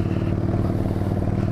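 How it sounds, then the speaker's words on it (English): A motorcycle's exhaust pipes rumble at low speed while riding between buildings in Savannah, a deep steady throbbing drone, close and loud, with no talk. "I can hear my exhaust pipes really coolly"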